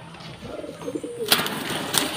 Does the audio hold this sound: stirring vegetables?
no